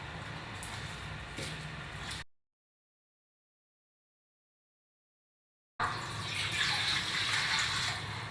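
Plain water, about 500 ml, poured into a pot for a fruit salad dressing, a steady close splashing stream that breaks off into a gap of silence and then resumes, louder and fuller.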